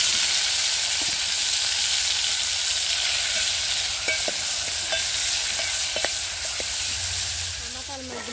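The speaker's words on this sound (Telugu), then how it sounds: "శనగపడిన ఉల్లిపాయ పచ్చిమిరపకాయ టమాటా పచ్చిమిరపకాయ వేసుకున్నాను." Onion, green chili and tomato fry in hot oil over a wood-fired stove, a steady close sizzle with occasional stirring clinks and scrapes.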